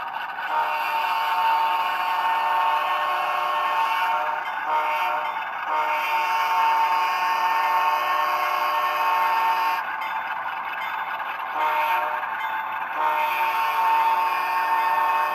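A Rapido HO-scale model of a GE Dash 8-40CM diesel locomotive runs steadily on track with a constant motor hum and droning tones, close and unbroken, with occasional brief dips in the higher hiss.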